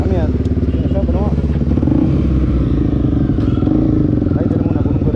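A Honda Tornado motorcycle fitted with a Protork 2 aftermarket exhaust idles with a loud, throaty, rapidly pulsing exhaust rumble that holds steady throughout, close by.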